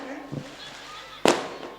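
Firecrackers set off at a wedding procession during a religious Krishna storytelling gathering: two sharp bangs, a softer pop followed by a louder crack, over a murmur of crowd and background voices.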